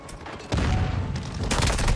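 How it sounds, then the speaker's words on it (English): Shotgun blasts in a shooter video game, a burst of loud gunfire beginning after a brief quieter moment, followed by another heavy volley near the end. "Shotguns in this game are so bad."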